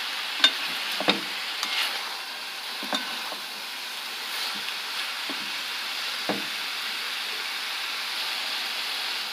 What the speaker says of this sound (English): let's fry our meat